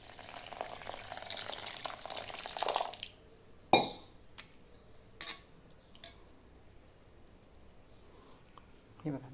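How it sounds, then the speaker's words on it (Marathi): Water poured over moong dal in a bowl to soak, a brief splashing pour that stops abruptly, followed by a few clinks and knocks of the dish in a quiet kitchen. "त्यात आपण थोडं पाणी टाकू आणि थोड्या वेळ भिजत ठेवूया."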